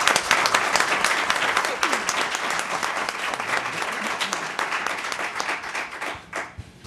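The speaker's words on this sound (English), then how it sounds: "I'd like to ask for a round of applause for our school board members" A crowd applauds steadily at a school board meeting, dense clapping sustained for several seconds before gradually thinning out.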